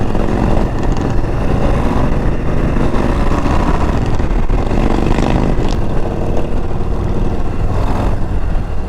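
A 2022 Harley-Davidson Low Rider ST with the 117 engine rumbles along at speed, its loud, continuous engine drone blending with heavy wind roar throughout.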